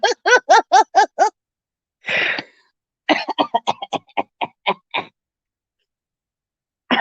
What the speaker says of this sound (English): Such a bad cough.